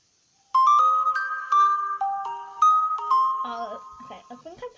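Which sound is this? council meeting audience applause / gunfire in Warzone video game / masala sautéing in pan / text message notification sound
text message notification sound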